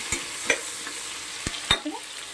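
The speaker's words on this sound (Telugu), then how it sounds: "అల్లం వెల్లుల్లి పేస్ట్ వేసి" Ginger garlic paste frying in a pan while cooking chicken biryani, with a steady soft sizzle under a few sharp clinks and scrapes of a stirring spoon.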